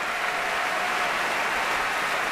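Applause from a concert audience after an opera baritone's aria with symphony orchestra and chorus, a steady dense wash of clapping with no voices.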